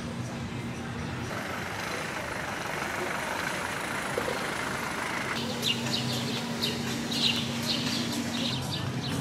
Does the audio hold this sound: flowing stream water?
no